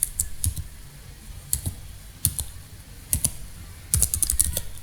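Fingers type on a computer keyboard in short clattering bursts of keystrokes separated by brief pauses, close and clear with no talking.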